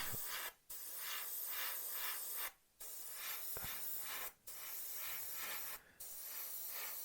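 Airbrush spraying paint onto the leading edge of a 1/32 Revell He111 model, with soft airy hissing bursts separated by four short pauses, quiet and close.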